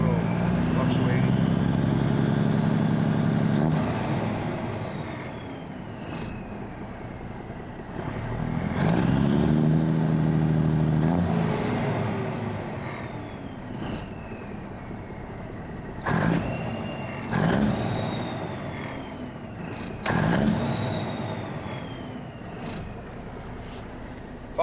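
A 1984 Ford LTL9000 truck's engine runs nearby, its rumble swelling and easing as revs rise and fall in several pulls, with sharp clanks and someone talking over it at times.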